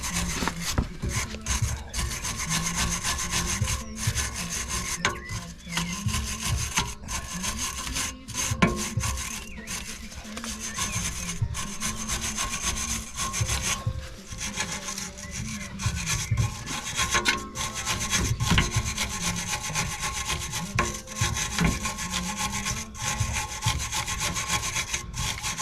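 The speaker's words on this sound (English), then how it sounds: "So let's clean this rust now." Steady abrasive scrubbing of rust from Volvo C30 brake parts, a continuous dense rasping with quick strokes running throughout at close range and fairly loud, no talking.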